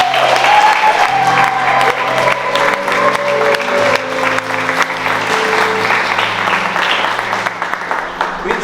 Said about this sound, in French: Vraiment, applaudissez le Seigneur pour notre courage